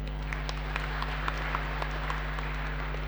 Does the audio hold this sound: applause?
yes